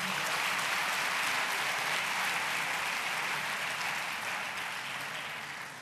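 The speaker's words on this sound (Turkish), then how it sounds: "Bir alkış alıyoruz onlar için." A crowd at a campus event applauds steadily, dense clapping sustained throughout and tapering slightly at the end.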